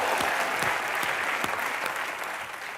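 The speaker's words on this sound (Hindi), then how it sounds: "एक बार मिथुन दा के लिए जोरदार तालियां।" Loud, thick audience applause on a televised comedy talk show as a celebrity film guest takes his seat, continuous and close with a few sharper claps standing out.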